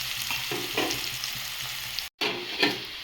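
Bitter gourd sizzling and crackling in hot oil in a pan, a steady dense frying hiss with small pops, close and fairly quiet, broken once by a brief dropout.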